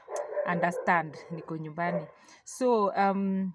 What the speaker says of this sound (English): I'm sorry about the dog barking. That's my neighbor's dog.